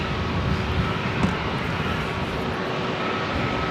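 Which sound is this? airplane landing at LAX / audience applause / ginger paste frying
airplane landing at LAX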